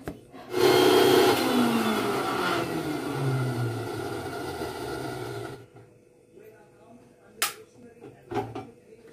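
Garlic and ginger ground into paste in a home kitchen, a loud whirring grind for about five seconds that slows and stops, followed by quiet with a few sharp clicks and knocks.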